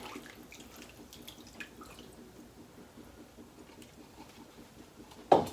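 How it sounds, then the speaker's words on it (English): Water added to a pan of seaboil seasonings and minced garlic, a soft, faint trickle and patter running steadily, ending with a sudden louder clatter. "Then I'm gonna add some water to that."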